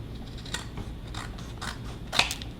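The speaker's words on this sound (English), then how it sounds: "I'm just gonna cut it with scissors." Scissors snipping through a congratulations card, a handful of short crisp cuts close up over a steady background hiss.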